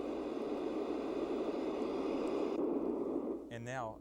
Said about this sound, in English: Now you can also choose to have rain,